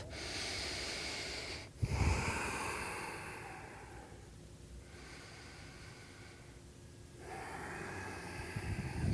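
Deep yoga breathing, slow and close: a long drawn inhale, a brief catch, a hushed exhale and another full inhale, steady airy breath with no talking.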